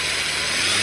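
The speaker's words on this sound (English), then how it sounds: "so far this is a really good little angle grinder" A compact SEESII battery angle grinder set to medium speed whirs continuously, a loud, even high-pitched motor whine heard up close with no other sounds.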